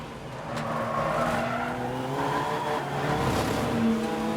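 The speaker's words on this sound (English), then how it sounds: "Both cars up the curb on the exit." Volkswagen TDI race cars in a 750MC Roadsports race at Snetterton circuit, engines droning loudly with rising and falling revs as the cars power along, sustained and fairly close, no voices.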